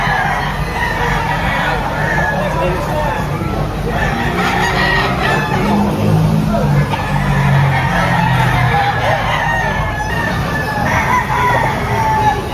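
Roosters crow and cluck at a busy gamefowl market, several long calls rising over a loud, dense crowd murmur with voices talking throughout.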